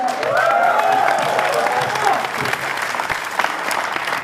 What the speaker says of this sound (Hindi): क्या बात है दोस्तों, जोरदार ताली।